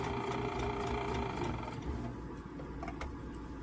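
A sewing machine runs at low volume while stitching a Dresden quilt block along the presser foot edge, a soft steady whirr with faint ticks and no talk.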